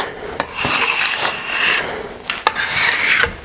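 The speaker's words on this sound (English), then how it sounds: "we're just going to run this whole scraper over the ski just to remove any burrs or anything like that" A scraper is drawn along a ski base to clear burrs and high spots, giving close, hissing scrapes in two long passes separated by a short clack of the tool being repositioned.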